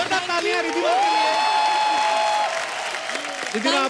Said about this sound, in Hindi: जोरदार तालियां रिद्धिमा के लिए।